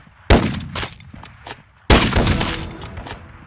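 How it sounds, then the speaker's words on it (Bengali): Two loud sniper rifle shots in the Roblox game Triggered, each a sharp close blast followed by a decaying rumble, spaced about a second and a half apart. "এখানে স্নাইপার দিয়ে আমরা হচ্ছে ট্রিগার শট দিব"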